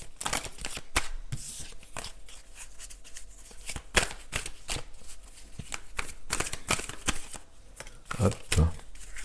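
Tarot cards being shuffled by hand, a steady run of soft riffling flicks and slaps close by, with a few louder thumps near the end.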